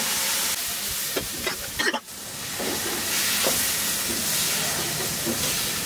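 Chickpeas poured with their water into spices frying in a pan, giving a loud, steady sizzling hiss with a brief dip partway through, then continuing as strong as before.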